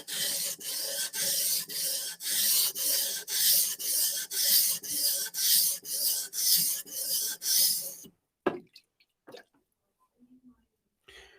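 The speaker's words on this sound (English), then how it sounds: "I'm going to keep going a little bit because I want to get a fairly even grind on either side of the knife." A kitchen knife is ground against a sharpening stone in about a dozen steady, rhythmic rasping strokes of steel, close and loud, before stopping abruptly into near silence broken by a few faint knocks.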